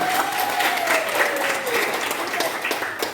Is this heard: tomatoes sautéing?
no